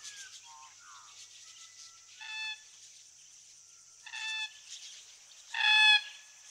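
Red-tailed black cockatoos calling in a riverbed near Alice Springs, three separate harsh, grating calls spaced a couple of seconds apart, the last loudest, over faint distant chirps and a quiet background.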